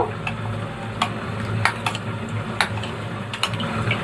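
A spoon mixes half a spoonful of cornflour into water in a steel bowl, giving scattered light metallic clinks and scrapes over a low steady background hum.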